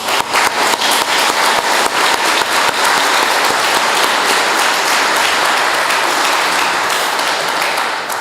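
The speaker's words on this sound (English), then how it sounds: "I want to have a round of applause for the citizens of the city of Lawrence." A large audience at Lawrence's 2023 State of the City event breaks into loud, dense applause for the city's citizens, sustained at full strength throughout with no voices rising above it.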